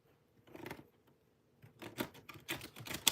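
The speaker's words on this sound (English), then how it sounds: "this deck is difficult for me to shuffle today" A deck of tarot cards being shuffled by hand, giving soft papery riffles in short bursts, one early and a denser run of flicks toward the end, close and fairly quiet.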